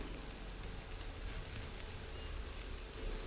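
Roti frying in a little oil on a hot pan gives a steady, close sizzle that stays even and unbroken throughout, with no voices.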